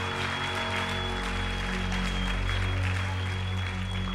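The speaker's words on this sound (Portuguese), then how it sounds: "Gente, vamos aplaudir de qualquer maneira," A church congregation at a Saturday service clapping steadily throughout, a continuous wash of applause over a low, constant electronic hum.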